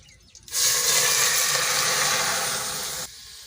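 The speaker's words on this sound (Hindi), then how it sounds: "उसके बाद हमने 1 कप यूज़ करना है मिल्क" Milk poured into a pot while cooking zarda, the sweet Pakistani saffron rice dish, giving a steady, loud hissing pour for about two and a half seconds that starts abruptly and cuts off cleanly.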